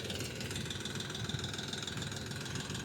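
A tractor engine runs steadily at about a thousand rpm while digging potatoes in a field, a dense continuous rumble with a faint knocking texture, close and unbroken, with no talk.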